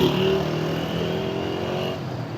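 A car on a roadside during a traffic stop, engine rumbling steadily and fairly close as it eases over to the side, with no talk.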